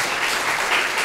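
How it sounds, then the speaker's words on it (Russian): Dense, steady applause from a studio audience on a Russian talk show, continuous broadband clapping at even loudness with no voices breaking through. "Слава, аплодисменты"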